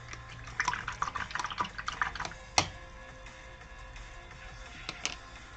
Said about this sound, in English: Get time to have a drink and rinse my brush.